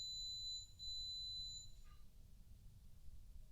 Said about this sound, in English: It's not going to stop beeping.